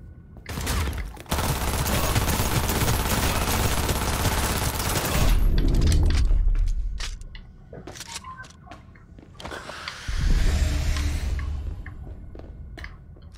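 Machine gun fire in Cyberpunk 2077 rips out in a long sustained burst, loud and close, then stops; after a short lull of clicks and clatter, a second burst erupts.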